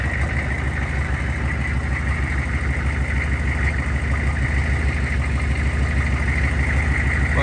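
An old diesel truck engine with its muffler cut out runs steadily at idle, a loud, continuous low rumble with a raw exhaust tone and no breaks.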